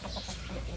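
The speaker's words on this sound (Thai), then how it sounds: "นี่ไก่ชนไก่ชน" A Thai fighting rooster clucks outdoors in Prakhon Chai, Buriram, a brief low cluck heard close against steady background noise.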